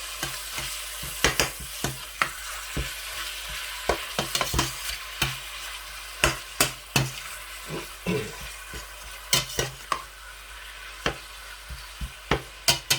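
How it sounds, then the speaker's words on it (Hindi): Keema and rice frying in a pan, giving a steady sizzle with repeated sharp scrapes and clacks of a spoon stirring through the meat and rice, close and fairly loud, with no talk. "कीमे को भी मैं तकरीबन 5-7 मिनट के लिए भूनूंगा"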